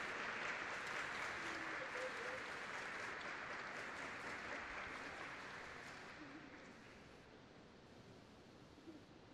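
A solemn ceremony audience keeps up steady clapping, a broad continuous wash that holds strong for several seconds, then gradually softens toward scattered claps near the end.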